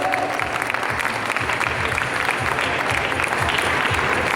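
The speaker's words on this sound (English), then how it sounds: "A big round of applause, please" A crowd at a primary school graduation ceremony breaks into sustained, even applause, many hands clapping loudly and continuously for the full few seconds without a break.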